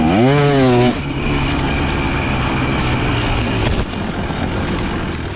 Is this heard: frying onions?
no